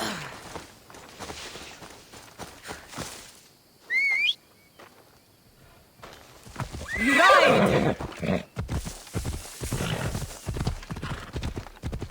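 In Assassin's Creed Odyssey, a horse gives a short high whinny and then a longer, louder neigh over steady hoof clip-clops, with game ambience and brief quiet stretches between.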